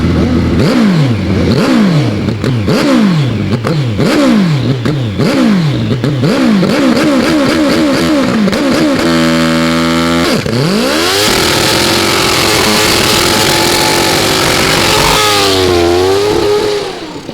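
A Prostar drag racing motorcycle at an AMA Prostar drag event, engine screaming loud and close through repeated rising gear-shift sweeps, then a held high-pitched wail and a hissing roar as the rear tyre smokes down the strip.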